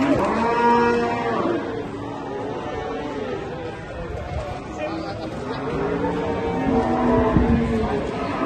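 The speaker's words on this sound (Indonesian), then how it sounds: "Kedatangan sapi jumbo, waduh, mantap ini." A jumbo cow moos loudly and repeatedly among other cattle, with deep drawn-out lowing calls filling the clip while people talk nearby.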